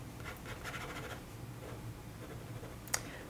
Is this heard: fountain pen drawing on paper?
yes